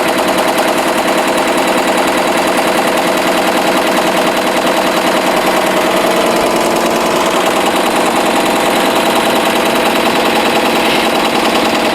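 An embroidery machine stitches a design onto a travel bag, producing a loud, dense, rapid mechanical chatter that runs steadily without pause.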